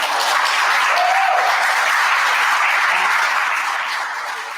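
An audience at a governor's press conference gives Mayor Malik Evans a dense, sustained ovation that stays loud and even before fading slightly at the end, with no talk.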